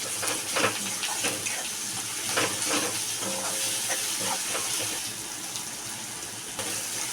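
Onion, tomato and slit green chillies fry in oil in a pan while being stirred, a steady close sizzle with scattered scraping clicks of the spoon running through.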